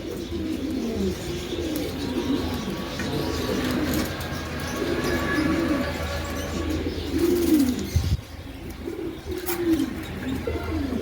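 Pigeons at a Bengali pigeon market, including a ringed 2022 bird and pairs of a fancy breed, coo in a steady, repeated murmur with soft chirps, close and fairly loud throughout.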